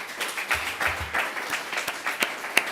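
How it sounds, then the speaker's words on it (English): Audience applause for a conference panel, a steady patter of many hands clapping at moderate volume with scattered sharper claps, no talk over it. "please, a big round of applause for all our panelists"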